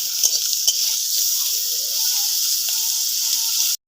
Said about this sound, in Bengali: এই যে আগে থেকে কেটে রাখা কাঁচা আমরা দিয়ে দেবো, ভালো করে ভেজে নেব।